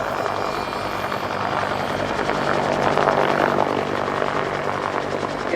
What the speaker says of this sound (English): And another lovely engine note, Andy, that of the Bristol Siddeley Gnome turboshaft engine.